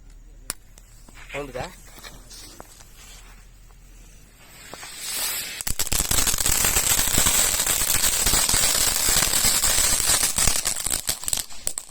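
A Fox Star firecracker, fancy festival fireworks, hisses and crackles loudly after a quiet lead-in, with a dense continuous stream of sharp pops and sizzling lasting several seconds, close by.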